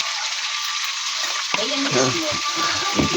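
Steady, close sizzling and crackling of mudfish frying in hot oil, with a brief bit of talk partway through.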